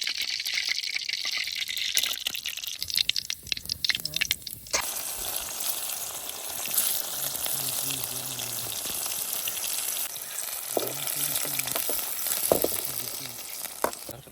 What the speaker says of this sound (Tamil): தேவையான அளவுக்கு எண்ணெய் ஊற்றிக்கலாம் தேவையான அளவுக்கு பட்டை லவங்கம் போட்டுக்கலாம்